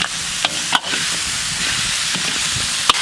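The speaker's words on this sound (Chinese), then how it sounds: "炒香以后下入排骨，来点生抽，再来点老抽" Pork ribs fry in a wok with soy sauce, scallion, ginger, dried chilies, Sichuan peppercorns, star anise, cinnamon and bay leaves, giving a steady loud sizzle with a few sharp scraping stirs and clinks.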